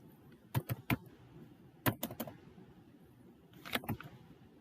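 Typing on a computer keyboard to enter Tamil 99 layout text, three short bursts of close, crisp key clicks separated by quiet pauses, no talk.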